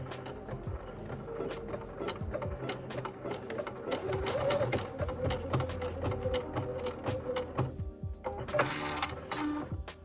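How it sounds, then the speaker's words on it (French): A domestic sewing machine with a buttonhole foot runs an automatic buttonhole program. Its rapid, steady mechanical stitching whirs and clicks continuously at close range, with no voices over it. "La machine a un programme spécial pour faire ça toute seule."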